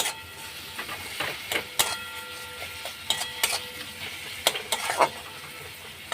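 A spoon scrapes and knocks against a pan while chopped tomatoes with chili powder sauté for paneer curry, giving irregular sharp clinks over a soft, continuous sizzle.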